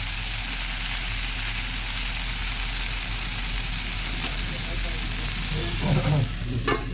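Beans, potato and kechki fish fry in a pan while being stirred, a steady close sizzle throughout with scraping spatula strokes growing louder near the end.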